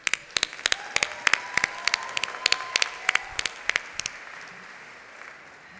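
Scattered, crisp hand claps from a small group at the Georgetown 2025 Walsh School of Foreign Service undergraduate commencement, sounding in an irregular rhythm for about four seconds before fading into quiet room tone.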